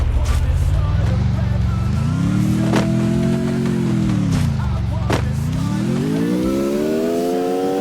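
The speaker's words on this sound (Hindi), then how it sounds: "अभी देखना मुझे उस बंदे की गाड़ी का आवाज भी आता है" A car in the Free Fire battle royale game drives close by, its engine drone rising and falling in pitch as it speeds up and slows. There are a few sharp clicks, and a voice talks over it.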